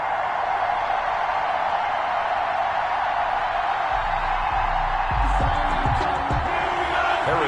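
A stadium crowd roars steadily at a football video game matchup between the Houston Texans and Pittsburgh Steelers, with a few heavier thuds and swells in the cheering toward the end.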